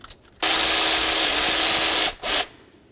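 A power tool loosens a nut on the intake of a Chevy C/K truck: a loud, steady whir runs for nearly two seconds, stops, then gives one short second burst, close up.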